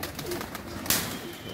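Pigeons coo softly in a short burst of low, throaty calls, with a brief flutter near the middle, close by in a rooftop pigeon loft, with no talking.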